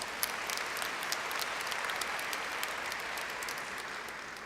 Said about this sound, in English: Yeah, let's applaud that.